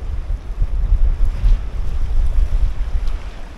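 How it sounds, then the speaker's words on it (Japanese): Strong wind gusting at a seaside fishing harbour on the outer coast at Okitsu port near Katsuura, Chiba, buffeting the microphone with loud, rumbling low roars that rise and fall continuously, with no speech. "あ、風が強いですね。"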